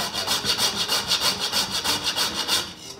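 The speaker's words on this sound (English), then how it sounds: "the final thing I'm gonna season with is a little freshly grated nutmeg" Fresh whole nutmeg rasped on a microplane for ricotta gnocchi: a close, steady scratching with quick, even back-and-forth strokes, about six per second.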